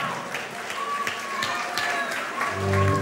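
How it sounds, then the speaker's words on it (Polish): Wedding guests applauding the bride and groom after their first dance, a fairly soft steady patter of hands under room noise and a faint voice, swelling slightly at the end. "Wielkie brawa dla młodej pary!"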